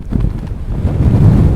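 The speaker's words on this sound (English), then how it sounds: "It's so windy I can't stand up." Loud, steady wind buffeting the microphone on the Cheviot border ridge, a continuous deep roar with no voices.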